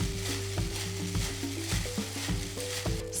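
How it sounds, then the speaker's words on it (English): A Korean side dish sprinkled with toasted sesame seeds is stirred and tossed, giving soft repeated mixing sounds close by over a steady background hum. "And that's it, we're just gonna mix this up."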